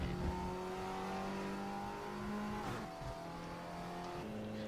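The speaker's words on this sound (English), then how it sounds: "just let the car do its own thing, and then accelerate out onto the main straight" A 2016 Audi TT race car in the Raceroom racing game accelerates hard out of a corner onto the main straight, its engine revving steadily through the gears with clear upshifts, loud and continuous with no talk.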